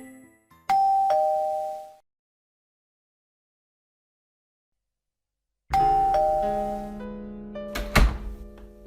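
A cartoon doorbell chimes in clear ding-dong tones, rings once, falls silent for several seconds, then rings again with a louder layered chime and a dull thunk near the end.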